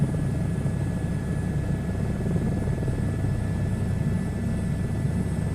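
A helicopter flies in a VR flight simulator game, its steady rotor and engine drone holding loud and constant with no pauses and no voices over it.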